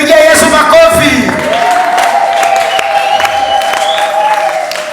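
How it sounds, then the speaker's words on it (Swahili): Church congregation applauding loudly, with sustained clapping under a preacher's voice and some shouts, gradually thinning toward the end. "Hata kama una wivu ungempigia Yesu makofi"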